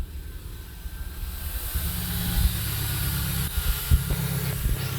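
A 2009 Subaru Forester engine idles steadily just after starting, a low continuous rumble with exhaust note from mufflers hanging loose at the rear, with a few soft knocks near the end and no talk.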